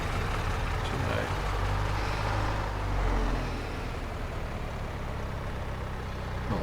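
A tractor engine in Farming Simulator 22 drones with a steady, continuous low rumble that swells briefly midway, with a person talking over it throughout.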